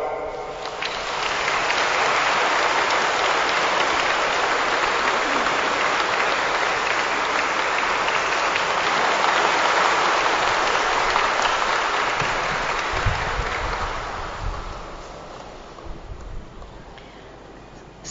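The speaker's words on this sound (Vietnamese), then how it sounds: "xin cộng đoàn cho một tràng pháo tay chào mừng" Sustained applause from a church congregation welcoming a new assistant priest at a thanksgiving Mass in Phú Bình parish, a dense, steady wash of clapping that swells and holds for about twelve seconds before thinning and fading out.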